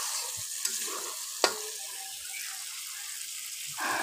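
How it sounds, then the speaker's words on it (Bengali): A fish head sizzles and fries in a pan, a continuous soft hiss close by with a few light clinks and stirring scrapes, fairly quiet, with no voices. "এই দেখেন মাছের মাথাটা খুব সুন্দরভাবে আমি কষিয়ে নিয়েছি।"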